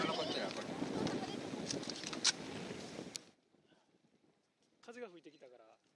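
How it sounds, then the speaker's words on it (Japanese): Wind gusting on a snowy mountain at the Shin-Hotaka Ropeway rushes and buffets the microphone loudly for about three seconds, then drops away abruptly, followed by near quiet and a person speaking briefly. "風が吹いてきたから"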